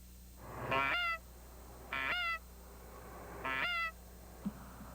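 Canada geese in the Twin Cities metro area give three separate honks, evenly spaced and fairly clear, each a nasal, harmonic call. A soft knock follows near the end.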